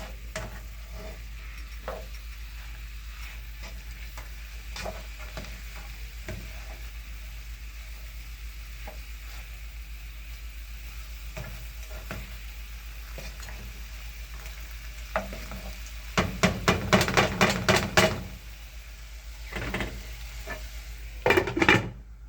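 Hot Italian sausages sizzle in a pan under a constant low frying hiss, with sparse clinks, then bursts of vigorous stirring and scraping near the end; no voices.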